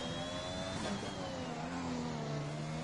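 A Formula 1 car engine in the F1 2021 video game at the Netherlands Grand Prix whines steadily under acceleration, its pitch climbing and shifting as the throttle is held open at a moderate distance.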